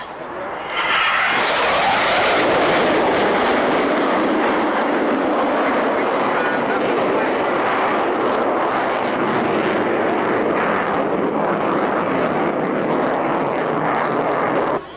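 A Tornado GR4 military jet making a fast pass at an airshow, its roar surging in loud and close within a second and holding as a broad, sustained blast of engine noise, with an announcer's voice faintly beneath.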